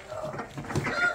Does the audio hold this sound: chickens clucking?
yes